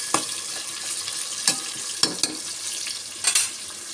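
Onion frying in oil in a pan, a steady close sizzle and hiss broken by a few sharp spatters and stirring clicks, with no one talking.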